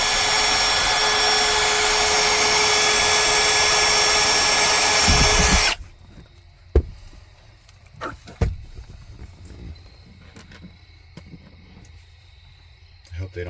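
A power drill runs loud and continuously for several seconds, drilling through a grommet on an RV screen door, then stops abruptly, followed by a few sharp clicks and knocks in a quieter room.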